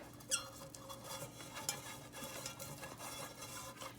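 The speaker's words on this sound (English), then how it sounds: "So I'm brushing my pan now with butter." A pastry brush spreads butter over a 9-inch cake pan, giving faint, soft brushing and light scraping strokes with a couple of sharper taps against the metal, quiet and close.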